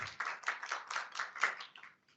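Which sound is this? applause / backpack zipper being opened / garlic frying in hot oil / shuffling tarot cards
applause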